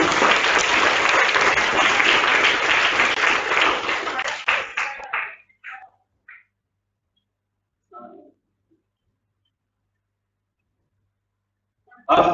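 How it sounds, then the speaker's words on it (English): Audience clapping for the teams at a zonal-level quiz competition, loud sustained applause for about five seconds that tapers into a few scattered claps, then silence before a brief burst at the end. "Let's clap for all the teams."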